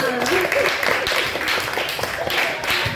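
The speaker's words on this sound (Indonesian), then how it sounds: "Oke, tepuk tangan untuk kita semua." A classroom of children clap their hands together in a dense, steady patter at close range, with young voices chattering and calling out over the clapping.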